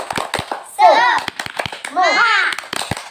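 Children in a classroom perform a rhythmic cheer, clapping sharply in a set pattern while chanting along in two loud bursts of voices.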